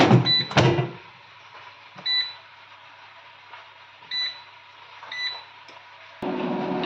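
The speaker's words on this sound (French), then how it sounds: "je vais passer les saucisses au air fryer histoire de les faire légèrement griller" An air fryer with sausages inside gives a clattering knock, then three short electronic beeps spaced over a quiet hum. Near the end its fan whirs on at a steady, moderate level.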